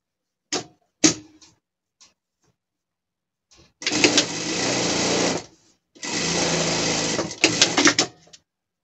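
Sewing machine stitching Oxford fabric for a pet gaucho costume: a few sharp clicks, then two sustained runs of rapid whirring, close and loud, ending in brief taps.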